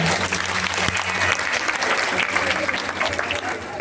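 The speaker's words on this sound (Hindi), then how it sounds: "बहुत बड़ी जोरदार तालियां" Loud audience applause at a satsang gathering, a dense burst of clapping filling the room at close range and holding steady for several seconds, with faint voices mixed underneath.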